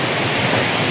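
Strong storm wind gusts buffet a microphone outdoors, producing a loud, continuous low roar and rumble that swells and surges without pause, with no voices.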